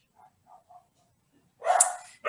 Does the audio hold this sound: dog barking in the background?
yes